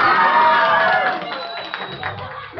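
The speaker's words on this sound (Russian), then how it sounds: "Аплодисменты Эмилу Караиванову." Audience applause and crowd noise at a televised Killer Instinct video game tournament, a loud burst of clapping that gradually thins out over a couple of seconds, with voices mixed in.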